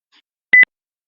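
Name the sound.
video call join request notification beep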